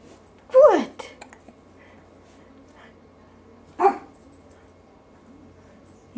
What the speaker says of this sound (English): You hear the dog bark?